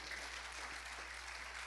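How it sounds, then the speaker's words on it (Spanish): Worshippers at a church service clap steadily for the Lord, a dense, even wash of applause filling the room without a break, faint overall and with no voices standing out. "Dele palmas al Señor."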